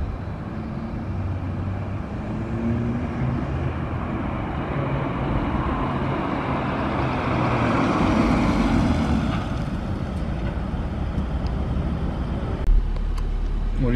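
An Audi S3 8Y fitted with anti-squat trailing arms approaches along a road and brakes. Its broad engine and tyre roar swells through the middle and then eases off, with wind buffeting the microphone.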